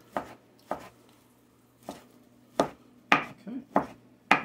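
A knife chops cooked meat on a board for cabbage soup, about eight sharp, separate strikes at an uneven pace, close and clear against a quiet background hum.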